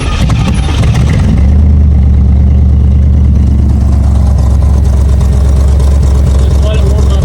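A 1984 Corvette V8 idles high while warming up at around 2,000 RPM, a loud, steady, deep engine drone up close, with a voice talking over it.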